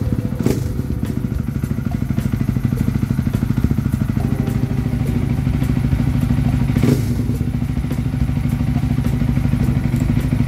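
A Yamaha WR 155 motorcycle with a bored-up engine idling, a steady low chugging rumble with a couple of clattering thumps, loud and close.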